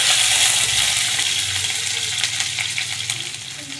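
Two dried red chillies and a few garlic cloves sizzle in hot oil in a wok, a loud, steady crackling hiss close by with faint stirring, no voices.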